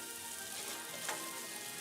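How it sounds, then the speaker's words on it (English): Onions fry in hot oil, a soft, steady sizzle close by and fairly quiet, with no talking. "Once at an okay temperature for frying, you can add your onions and cook until nice and brown."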